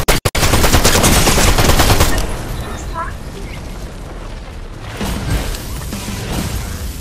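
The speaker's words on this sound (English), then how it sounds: "Then I see more bullets flying over there." Dense, loud automatic gunfire in Fortnite, a rapid burst of shots followed by a continuous rumbling barrage of distant bullets that swells again toward the end.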